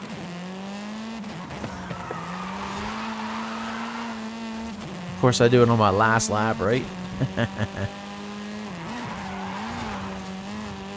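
Tires screech and slide as a car drifts in the Forza Horizon racing game, a long rising squeal in the middle under a steady engine drone, with someone talking throughout.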